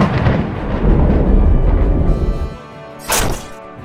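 A lightning-charged magic javelin strikes in a Dungeons & Dragons fantasy battle, a loud rumbling thunderous crash that fades, then a short sharp crackle near the end.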